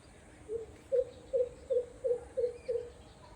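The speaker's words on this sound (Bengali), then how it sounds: "এটা ঘুঘুর ডাক।" A dove coos in a quiet village woodland, seven soft, evenly spaced low notes repeating in a steady rhythm, fairly close, over faint background hum.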